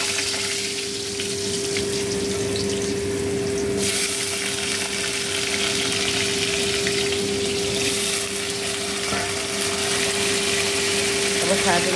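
Potatoes fry in oil spiced with cumin, whole cloves and cardamom, giving a steady, dense sizzling hiss over a constant low hum, loud and unbroken throughout.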